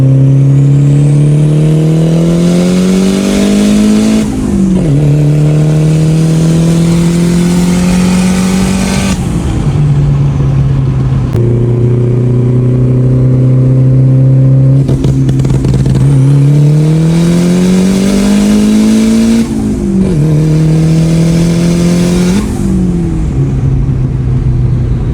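A loud turbocharged Honda Civic engine drones and revs repeatedly, pitch climbing and dropping through gear changes as it drives continuously, close and powerful.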